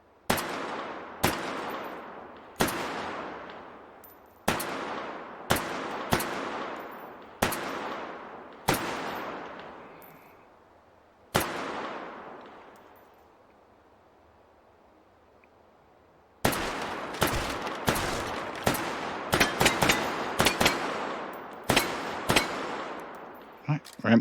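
Pistol shots fired in the VR game Hot Dogs, Horseshoes & Hand Grenades: a string of sharp, loud single reports at uneven intervals with ringing decay, a quiet pause, then a faster volley of rapid shots.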